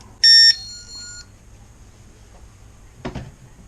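A Harbor Freight Bunker Hill driveway alarm receiver gives one short, bright electronic chime near the start, loud and close indoors, followed by quiet room tone and a brief handling knock.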